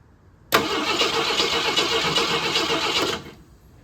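Starter cranking on a 1988 AMC Eagle that will not fire: a steady, even whirring turnover begins abruptly, runs for about three seconds without catching, then cuts off, close and alone.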